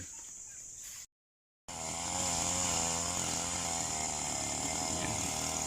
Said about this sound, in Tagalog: So grass cutter po.